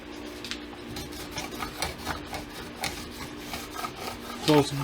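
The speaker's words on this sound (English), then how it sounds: "now just quick sanding with a little bit of sandpaper to just smooth out those" Steady rhythmic rasping strokes of sandpaper smoothing glue blobs on a guitar fretboard's side dots, fairly close, back and forth at an even pace, with a faint hum underneath.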